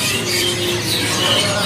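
Caged canaries chirp in a busy bird market selling white canaries, a dense, continuous chatter of many small birds close by, with no one speaking.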